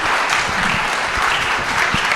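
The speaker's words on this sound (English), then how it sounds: "Let's give them all a big round of applause." Audience at a food-industry social media marketing panel giving a big round of applause, steady and dense throughout with no talking.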